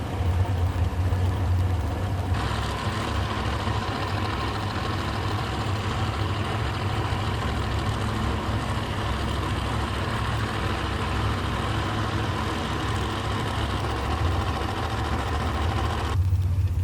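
Race Tech dragster with an undercover chassis sits idling at a drag race, a steady low, heavy engine rumble holding even and loud throughout with no breaks.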